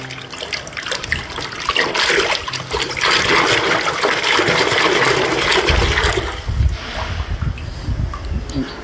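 Water runs and splashes steadily while toy animals such as a rooster are washed, a loud continuous gush that eases into trickles and dribbles near the end.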